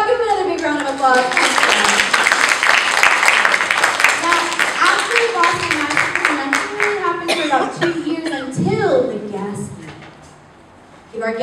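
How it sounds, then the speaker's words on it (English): Applause and clapping from a school audience at a magnet school event honoring a student, loud and sustained with voices and speech mixed throughout before fading near the end. "Give him another big round of applause."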